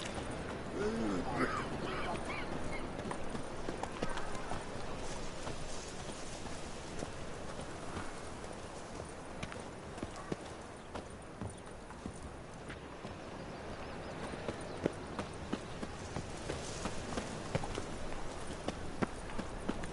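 A horse galloping in The Witcher 3 video game, its hooves beating a steady, rapid clip-clop for the whole stretch over a dense layer of game ambience, with faint voice in the background.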